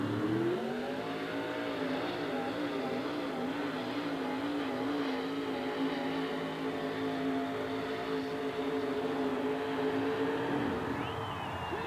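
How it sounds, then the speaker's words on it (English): A 1968 M715 military Jeep fitted with a big block Chevrolet engine pulling at a truck pull event, a long, sustained, loud engine roar with wavering pitch that holds steady before cutting off near the end. "A 1968 M715 military Jeep with a big block Chevrolet in it."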